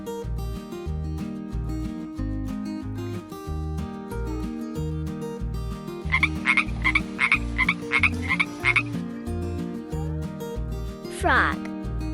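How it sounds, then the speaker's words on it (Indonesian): Frog croaking in a quick run of repeated croaks near the middle, heard over steady background music. "Frog."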